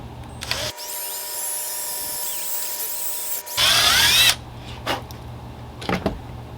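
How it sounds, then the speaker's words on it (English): A power drill with a 7/16 bit whines steadily while boring a hole, then speeds up briefly before stopping, followed by a few faint clicks and knocks. "Then we're going to use our 7/16 drill bit. We're going to make a little hole."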